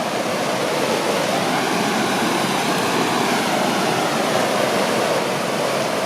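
A creek at a backpacking crossing in the Desolation Wilderness rushes steadily, a loud, close, unbroken broadband roar of flowing water with no voices.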